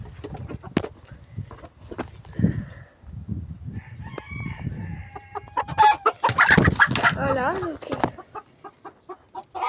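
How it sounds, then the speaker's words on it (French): Hens and roosters in an aviary cluck and crow loudly nearby around a laying hen, with busy bursts of calls and flapping, while a person speaks briefly. "Normalement, il y a la poule qui pond là-dedans."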